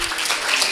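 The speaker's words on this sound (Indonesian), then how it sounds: "Ya, tepuk tangan." Audience applause at a guest lecture, a brief burst of broadband clapping from a crowd, steady and fairly loud for under a second.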